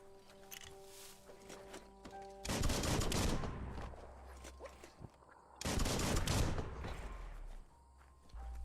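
Gunfire from the Biomutant video game comes in two sustained, rattling bursts, each lasting over a second, separated by quieter gaps with softer game sounds and faint hum in the background.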